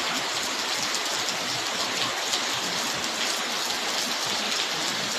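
Heavy rain pours down steadily in Hyderabad, a dense continuous hiss of drops striking surfaces, loud and unbroken throughout with no voices.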